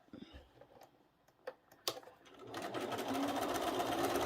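A sewing machine stitches a quarter-inch seam on trihexa quilt pieces. A few sharp clicks and ticks come first, then the motor rises into a continuous whirring run.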